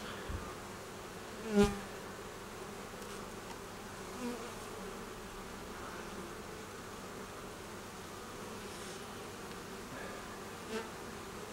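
Honeybees drone around an open hive frame during a hive inspection, a steady low buzzing hum throughout with a brief louder knock near the start.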